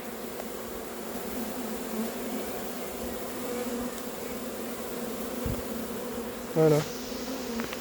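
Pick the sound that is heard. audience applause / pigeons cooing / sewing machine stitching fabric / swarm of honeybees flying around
swarm of honeybees flying around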